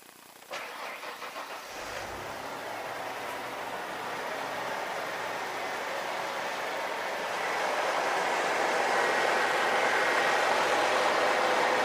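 A car engine cranks and catches, then settles into a steady cold idle drone that grows slightly louder and rougher over several seconds, during an oil pressure test.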